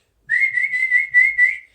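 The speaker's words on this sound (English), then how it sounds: "The whistling actually sounds better" A person whistles a short tune in a smooth, continuous line with slight pitch bends and small pulses, close and clear with no talking.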